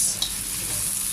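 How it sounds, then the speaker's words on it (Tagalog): Carrots lightly sautéed in a pan on a small, low-budget stove for pancit guisado, giving a steady, close, noisy sizzle with a brief stir partway through. "gigisa lamang po natin yung carrots ng very light"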